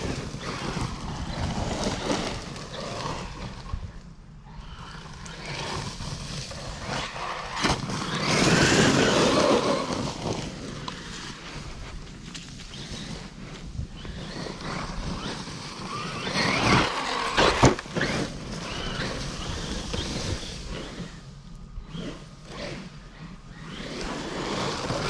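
A Traxxas Maxx V RC car with a 24/50 kv motor runs at full throttle through the woods, its motor whine rising and falling as it speeds, mixed with rough terrain noise and gusts of wind over the microphone.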